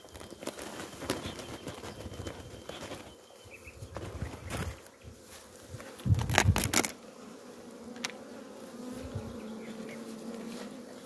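Bees buzz around beehives in an apiary, a continuous swarm drone close to the microphone with scattered clunks and handling knocks from hive work.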